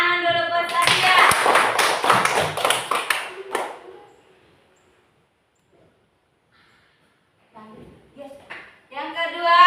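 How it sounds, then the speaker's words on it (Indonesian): Classmates in a school lesson clap together for a student, a dense burst of hand claps lasting about three seconds, then fading into quiet before a voice speaks at the end. "Tepuk tangan dulu buat Sadia"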